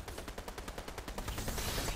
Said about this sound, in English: I got sniped at, so be wary